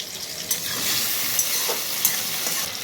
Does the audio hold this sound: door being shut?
no